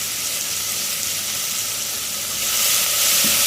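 Chopped onion sautés in a pan for a vegetable kurma, making a continuous bright sizzling hiss that swells slightly near the end, with no talking.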